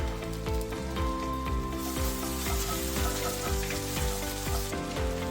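Ginger-chili paste and garlic paste sautéing in a hot pan give a steady, moderate sizzle with bright crackles and repeated light scraping strokes of a spoon stirring through it.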